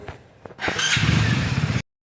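A motorcycle engine starts up with a brief crank, then catches and runs at a steady, loud, close idle before cutting off abruptly.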